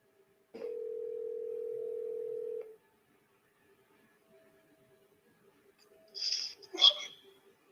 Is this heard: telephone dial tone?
yes